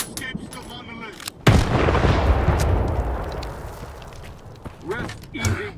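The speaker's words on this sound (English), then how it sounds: "Throwing a grenade!" A grenade blast in S.T.A.L.K.E.R. 2 bursts with a sudden heavy boom, then a long rumbling roar that slowly fades over several seconds, framed by brief voices shouting before and after.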